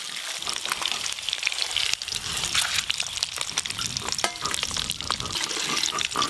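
Eggs frying in hot oil for a Bengali egg curry, a steady close sizzle with crackling spits and pops running throughout, with no talk.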